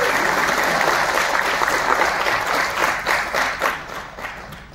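An audience claps and applauds loudly and densely, the sound holding steady before thinning and fading toward the end.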